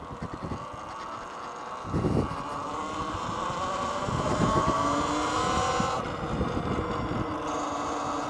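A Talaria R MX4 electric dirt bike fitted with supermoto wheels being ridden, giving a steady whine and rushing wind noise that swells and fades with the throttle, with no talk.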